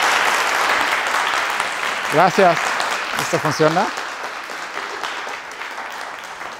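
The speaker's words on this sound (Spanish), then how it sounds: "solamente les quiero un aplauso para que inicie la conferencia" An audience applauds to open a lecture on gravitational waves by a physicist, with steady, fairly loud clapping throughout as someone briefly speaks over it.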